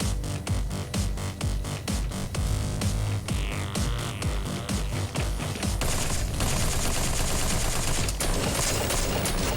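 Shotgun blasts fire again and again in the arena shooter Protocore, a dense, loud barrage of overlapping booms over a constant roar of combat.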